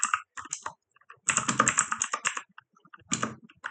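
Typing on a computer keyboard while entering commands during a Samba file server setup on Debian 10, heard as close, crisp key clicks in short bursts separated by pauses.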